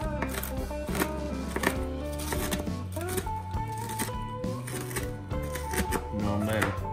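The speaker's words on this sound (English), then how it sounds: "I'm just gonna rough cut this bacon." Bacon roughly chopped with a knife on a board beside a Weber kettle, with quick irregular tapping chops close by over steady background sound.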